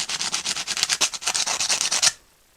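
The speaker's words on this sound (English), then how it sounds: "take the tip of it and slide it across your sandpaper there" A spark plug tip scrubbed back and forth on sandpaper gives a rapid, rhythmic rasping rub, close and steady, about twenty quick strokes before stopping abruptly.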